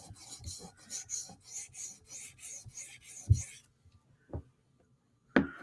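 A Tanto M4 PM2 knife heel rasps in repeated strokes across a sharpening stone, about nine steady back-and-forth passes that stop partway, followed by a few sharp knocks and taps near the end.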